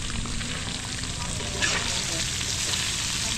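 Steady, close crackling sizzle of food frying in hot oil, dense and continuous throughout.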